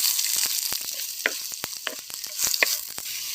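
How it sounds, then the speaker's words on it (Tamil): Onions sizzle and crackle in hot oil, with sharp irregular pops and spatters over a steady frying hiss, close up. "இப்போ நறுக்கிய வெங்காயம் சேர்த்துக்கலாங்க"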